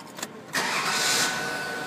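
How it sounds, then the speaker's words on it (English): A Ford Taurus 3.0L 12-valve engine with a freshly replaced starter cranks quickly and then fires, rising into a loud, steady engine sound heard up close, with no speech. "let's see how fast she cranks now"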